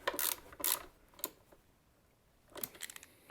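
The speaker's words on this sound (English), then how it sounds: "And then we can start clamping the bolts up." Clamp bolts on a Suzuki SV650 motorcycle footrest being tightened, heard as a few short, faint mechanical clicks and ratcheting bursts separated by quiet pauses, close by with no talking.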